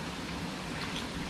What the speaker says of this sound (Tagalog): Naulan naman po.